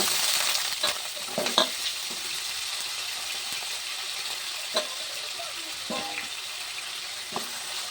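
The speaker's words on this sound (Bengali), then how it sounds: "তারপর আলুগুলো আমি ভেজে নিচ্ছি।" Small cut potatoes frying in oil in a wok, a steady soft sizzle throughout with occasional light clicks and scrapes of a utensil against the pan.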